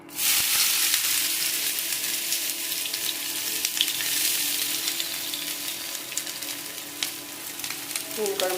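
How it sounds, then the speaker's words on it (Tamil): Loud, steady sizzling and crackling of onions and curry leaves frying in hot oil for fish curry, with occasional stirring sounds and a faint voice near the end. "மீன் குழம்பு தாளிக்கிறதுக்கு எண்ணெய் கருவேப்பிலை போட்டு வெங்காயத்தை வதக்கிறேன்."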